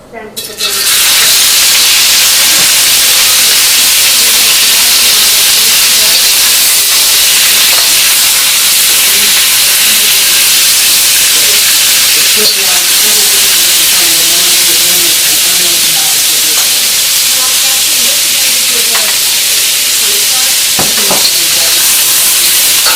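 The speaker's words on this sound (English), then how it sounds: "So I'm just going to dump the previously cut flank steak in." Sliced flank steak searing in hot oil in a wok, a loud continuous sizzle and hiss that holds steady throughout with occasional crackles and stirring clatter.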